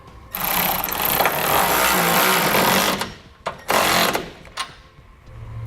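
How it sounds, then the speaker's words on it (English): Close, loud bursts of a power tool spinning a 9/16 socket run down a nut while air helper springs go onto a 2016 Chevrolet, with one long run followed by shorter pulses. "Then we're going to grab another 9/16 socket and tighten up the nut"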